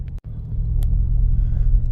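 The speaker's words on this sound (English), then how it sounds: "Let's see how the G-Wagon G63 4x4 squared does on this little commute." Mercedes-AMG G63 4x4 Squared driving on snow, a steady low engine rumble and drone from inside the vehicle that holds throughout, with a brief dropout near the start.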